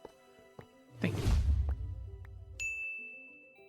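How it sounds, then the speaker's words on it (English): A bright bell ding on a HermitCraft Minecraft stream, struck with a crash-like burst and low boom, then a clear high ring that lingers; sparse clicks beneath, no talk. "The bell sound is amazing."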